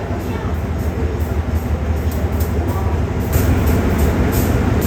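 Ordinary train no. 275, hauled by GEA 4548 locomotive, runs through Chachoengsao in Thailand. A loud, continuous, close rail rumble rolls steadily throughout, with a slight rise in intensity near the end.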